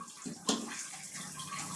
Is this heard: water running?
yes